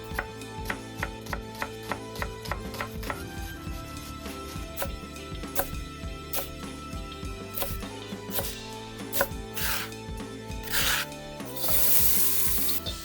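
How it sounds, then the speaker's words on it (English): Onions being chopped on a board with steady knife taps, followed by a louder hiss and sizzle as they land in a hot wok with cumin, heard alone without talk. "Now chop 2 small onions and toss them into the wok."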